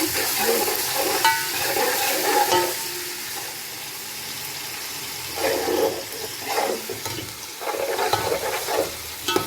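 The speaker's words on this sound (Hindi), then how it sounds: "इसको मैंने तकरीबन 30 सेकंड के लिए भून लिया है" Steady sizzling of garlic ginger paste frying in a hot pan, with occasional stirring scrapes and swells of louder crackle.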